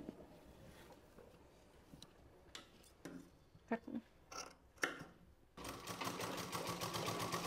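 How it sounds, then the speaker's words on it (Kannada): A sewing machine stitches a blouse in short bursts, then runs steadily at the end, close and fairly quiet, with cloth handling and scissor-like clicks between runs. "ಕೆಳಗೆ ನೋಡಿಕೊಂಡು ನೀಟಂಗೆ ಹೊಲಿಗೆ ಹಾಕೋಬೇಕು"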